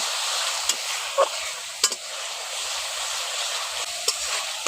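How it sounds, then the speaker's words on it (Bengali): Mango pieces and spices fry in a pan with a steady, quiet sizzle, while a utensil scrapes and clicks against the pan in short, sharp taps at irregular intervals. No one speaks. "মশলার সঙ্গে আমটা দিয়ে একটু ভালো করে কেটে নিচ্ছি"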